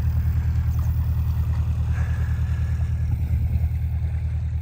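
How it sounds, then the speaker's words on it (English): A canal boat engine chugs steadily and continuously on a river, a low rumbling drone that stays even throughout with no talk. "There's something extremely calming about the sound of canal boats."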